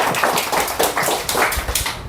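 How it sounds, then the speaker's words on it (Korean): Applause of thanks from a lecture audience after a talk on traffic impact assessment, a dense run of close hand claps lasting about two seconds and fading at the end. "감사의 박수 한번"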